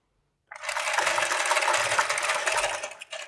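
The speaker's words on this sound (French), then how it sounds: "je vais juste tourner la manivelle jusqu'à la longueur désirée" A semi-automatic knitting machine has its crank turned by hand after a moment of silence, giving a dense, steady clattering whir close by until the clip ends.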